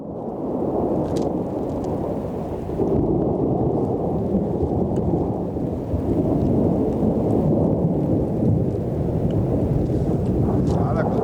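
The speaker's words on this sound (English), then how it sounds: "There's a lot of thundering going on around." Thunder rumbles on and on, a deep, continuous roll mixed with steady rain hiss.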